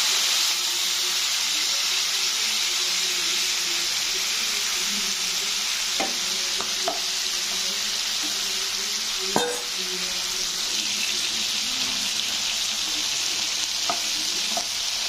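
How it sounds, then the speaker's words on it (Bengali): Shing fish frying in hot oil sprinkled with salt, a loud continuous sizzle and hiss with a few sharp pops and crackles scattered through. "শিং মাছগুলো আমি হালকাভাবে ভেজে নেব"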